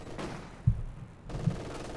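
MG42 machine gun firing in the WWII strategy game Company of Heroes 2, two short, sharp bursts of gunfire with quieter battle noise in between.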